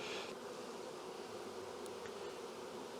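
Honey bees buzz around queen rearing frames, a dense steady hum that stays close and continuous throughout with no talking.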